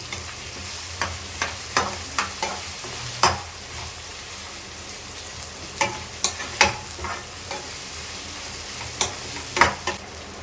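Tomatoes sauté in a pan for prawn masala, a steady close sizzle broken by repeated spoon scrapes and stirring knocks at irregular intervals, with no talking.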